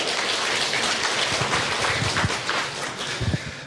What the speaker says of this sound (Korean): 우리 격려의 박수 한번 부탁할까요?